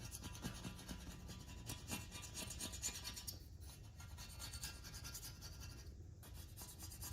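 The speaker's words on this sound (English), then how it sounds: "All you gotta do is you just scrape it with a scraper, the edge that's flaking off." A scraper rubbing against the flaking black backing along the edge of a mirror, a steady close, faint rasping scrape repeating continuously without pause.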